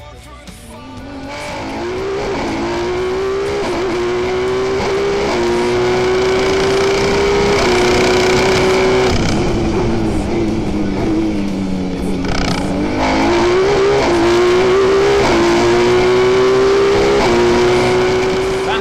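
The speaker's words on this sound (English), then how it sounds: "a series of nicely performed donuts as well" A race car spinning donuts at a drift event, a loud sustained engine whine that swoops up and down with tire squeal and skidding, continuous and close.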